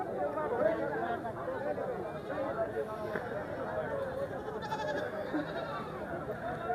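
Small young goat kid bleating at a goat trading spot, its calls mixed into a busy crowd of chattering voices and other goats throughout, moderately loud and continuous.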